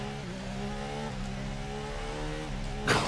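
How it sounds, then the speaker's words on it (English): A car engine that sounds like a V8 revs steadily with a droning, harmonic-rich hum and shifting pitch, heard from inside the vehicle, ending with a brief louder burst. "You're revving this engine so much"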